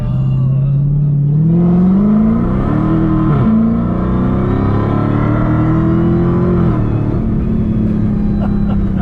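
A Dodge Charger Hellcat accelerates hard with its tires spinning, its loud engine note climbing steadily and droning with a brief dip partway through, no voices over it.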